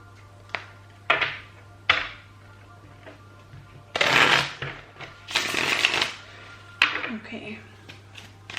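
Tarot cards being shuffled by hand in several bursts of riffling and flicking, close and moderately loud, with soft taps and pauses between, alone without talk.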